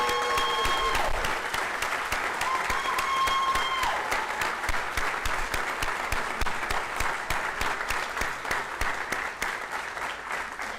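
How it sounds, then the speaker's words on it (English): Standing ovation at a Windham School District Board of Trustees meeting, a steady burst of many hands clapping indoors, loud at first then gradually thinning over about ten seconds. "So as we all stand, we're giving you a standing ovation."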